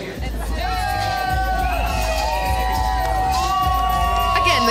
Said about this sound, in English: Crowd going wild here in Venice Beach, California.